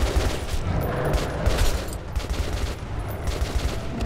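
A brief stretch of heavy gunfire in the Metro 2033 Redux video game, a thick, continuous volley of rapid shots that stays loud and close throughout.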